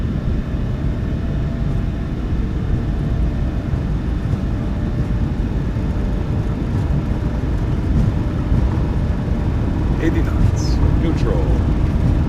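Airliner engines at takeoff power in Microsoft Flight Simulator 2024 during a crosswind departure from Long Beach, a steady heavy low rumble running throughout, with a brief spoken word over it.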